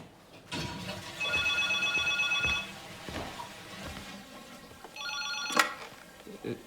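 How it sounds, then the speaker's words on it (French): An old-style telephone bell rings indoors in a French thriller film scene, two ringing bursts with a pause between, over faint room sounds and a brief voice. "Coco, ça sonne. Ben décroche"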